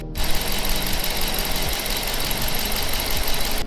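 A 5.7-liter Hemi V8 in a 2019 Dodge Charger Pursuit AWD idles steadily up close, a deep rumbling burble with an even, loping pulse and no talking.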